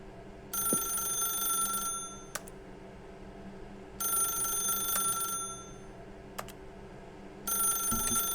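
A telephone rings in the video game The Stanley Parable, three ringing bursts spaced a few seconds apart over a low, steady ambient hum, with brief clicks between rings.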